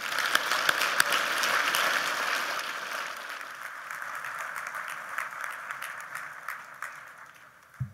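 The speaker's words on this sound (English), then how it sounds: "I bet her parents clap for that part, too." An audience claps for the keynote speaker at a memorial dinner, loud full applause that gradually thins and fades over eight seconds, with a few scattered claps toward the end.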